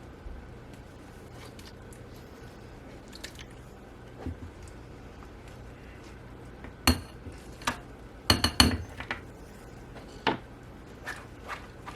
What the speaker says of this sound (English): I'm using 2 spatulas because I don't want to get the seeds that are in here in here.